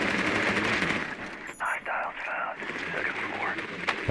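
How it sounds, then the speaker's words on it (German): Gunfire in the tactical shooter game Rainbow Six Siege, a run of rapid shots and bursts crackling over a steady background bed, with players talking over it. "Da wird geballert."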